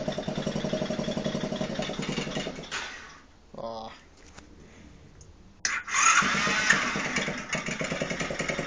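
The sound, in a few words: mini quad engine starting and idling with rattly muffler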